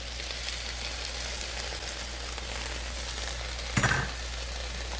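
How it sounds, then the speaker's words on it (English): Chopped, washed Malabar spinach hitting a hot pan in an off-grid South Florida kitchen, a steady close sizzle with a brief louder stirring burst near the end. "finally, I'm going to add the Malabar spinach, which is already been chopped up"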